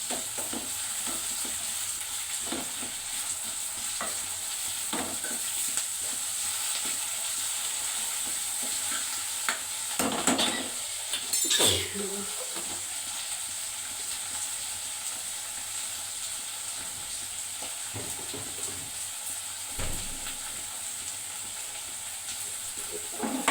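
Ginger and onions fry in a pan for tomato pappu, a steady close sizzle with occasional stirring scrapes and clatter, briefly louder around the middle, with no talk.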